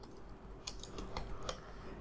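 A computer keyboard clatters with quick, light key presses in a short burst while JavaScript code is typed, faint and close, with no talking.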